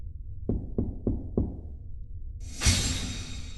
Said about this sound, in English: there's a quiet knock on the door